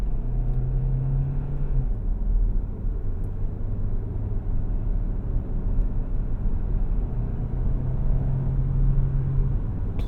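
A 2025 Hyundai Tucson Hybrid Limited AWD accelerating hard on the road, its engine hum rising and settling as the transmission kicks down, steady and close from inside the cabin over continuous road rumble.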